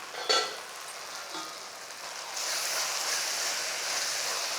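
Tomatoes sizzle in a pan of oil for fish curry, a steady close hiss that turns louder and denser partway through, with a couple of brief stir knocks near the start.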